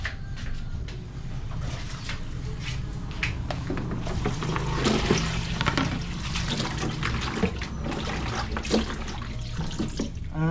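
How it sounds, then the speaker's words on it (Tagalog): A kitchen faucet runs steadily into a sink while a frying pan is washed, with water splashing and occasional clunks of the pan and cupboard knocks, close and continuous, no voices. "Hugasan muna natin at saka yung kawali natin"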